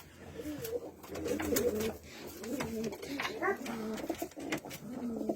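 Domestic pigeons, including white and Ankara birds, coo steadily inside a loft, a dense overlapping chorus of low throaty calls that stays fairly loud and close for the whole stretch.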